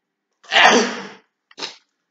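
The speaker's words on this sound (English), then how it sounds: "I have to sneeze, so that's gonna happen." A single loud, close human sneeze bursts out sharply, followed a moment later by a short, softer exhale or sniff.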